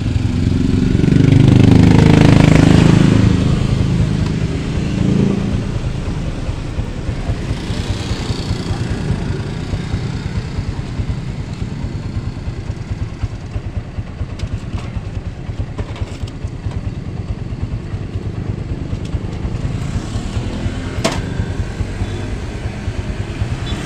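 A motorized tricycle rides a bumpy road between Bicutan and A. Bonifacio Street, with a continuous engine drone and rattling vibration, louder at first and then settling into a steady rough rumble.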